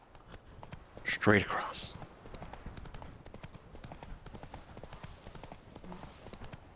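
Roach the horse in The Witcher 3 running in rhythmic hoof clip-clops under a man's speech, with a brief burst of louder sound near the start.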